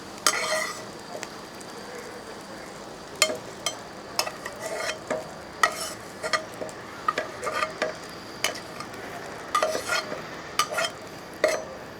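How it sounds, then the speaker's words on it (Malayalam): Fried cashews, raisins and curry leaves tipped into a pot of thari kanji, giving a string of sharp clinks and short sizzling bursts from a metal pan and utensils, fairly close, with no talking. "ആ തരിക്കഞ്ഞിക്കകത്തോട്ട് നമ്മൾ അണ്ടിപ്പരിപ്പും മുന്തിരിങ്ങ കരിയാപ്പലൊക്കെ വാർത്തിയിട്ടിട്ടുണ്ട്"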